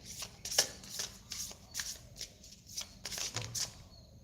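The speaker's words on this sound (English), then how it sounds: "when Spirit shows me a card or a saying from a deck, I need to shuffle it" A tarot card deck being shuffled, giving a run of quick papery riffling bursts and soft card slaps in an uneven rhythm, close and fairly quiet, with no talking.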